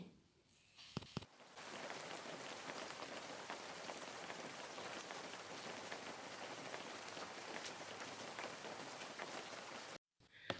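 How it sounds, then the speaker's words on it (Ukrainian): Steady rain pours onto a surface in a dense, even hiss, starting after a brief quieter moment and cutting off abruptly near the end; no voices. "От і прийшов дощик для інших квіточок."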